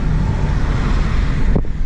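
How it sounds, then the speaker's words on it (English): Trucks and other road traffic pass by on a roadway in a steady, loud broadband rumble with some wind buffeting, continuous for about two seconds and no one speaking. "Trucks."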